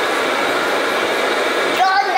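A vacuum cleaner runs steadily and loudly in a home kitchen while meatballs are being cooked, a continuous airy roar that shifts slightly near the end.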